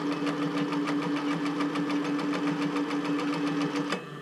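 A sewing machine stitching a bra runs steadily with an even, fast mechanical rhythm and a light whirring hum, close and moderately quiet, stopping abruptly near the end.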